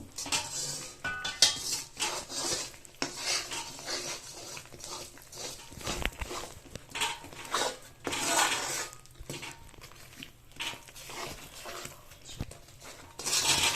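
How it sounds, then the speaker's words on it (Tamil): Mysore pak batter stirred in ghee in a pan, with steady clinking and scraping of a utensil against the pan, close and moderately loud, and no talking. "இந்த மாதிரி கலரணும். கலர்றப்போ நொர வரும்."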